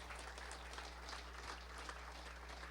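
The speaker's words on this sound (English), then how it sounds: "How about a round of applause?" An audience at a national finals event applauds the host's wife, a steady wash of clapping heard faintly and at a distance over a low electrical hum.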